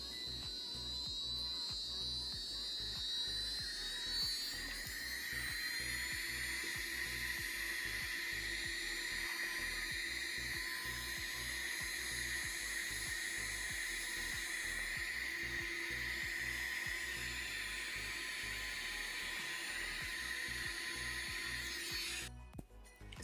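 An electric nail drill used with cuticle bits runs steadily and alone for over twenty seconds, a continuous whine that shifts pitch slightly, near and moderately loud, ending abruptly.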